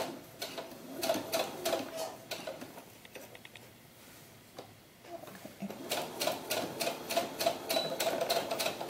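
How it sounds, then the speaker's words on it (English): Sewing machine stitching the waistband of a historical-style doll ball gown, running in rapid bursts of mechanical ticking with a short pause midway before a longer steady run. "I did mine by sewing machine"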